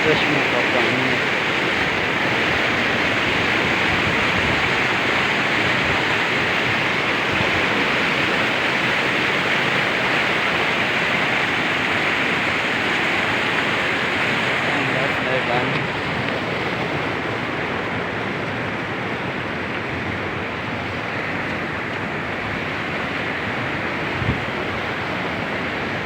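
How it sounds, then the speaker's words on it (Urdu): Spring water rushes continuously downhill into a river in the mountain valley of Gabral, a loud, dense and steady roar heard up close with no break. "یہ سارا پانی نیچے ندی میں جا رہا ہے"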